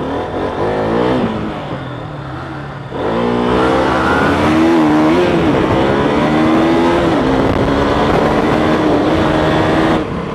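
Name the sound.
motorcycle drag race, V3 versus RC 200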